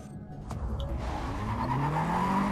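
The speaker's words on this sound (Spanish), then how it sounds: "Qué rico suenan los carros aquí." Cars in the video game Need For Speed World rumble and skid continuously, with a rising engine whine and tire noise filling the whole stretch at steady loudness.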